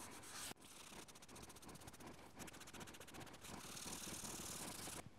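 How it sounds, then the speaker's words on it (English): A tissue rubs wood stain into a wooden surface, giving a soft, quiet, steady scratchy friction that runs in rapid strokes, with a brief pause early on and no voices. "using the edge of the tissue, you can rub that in"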